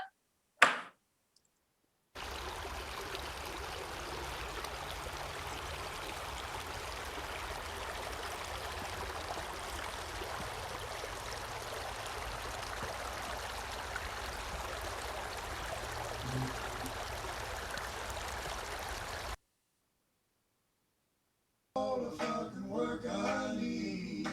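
Hot water running steadily from a tap or shower, a continuous hissing splash lasting about seventeen seconds between brief silences, followed by a moment of voices at the end.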